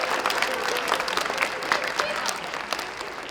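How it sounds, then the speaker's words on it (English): Applause for a pianist at an elementary school spring concert, a full room of clapping at close range, steady and lively with scattered crowd voices mixed in. "Let's give her a round of applause"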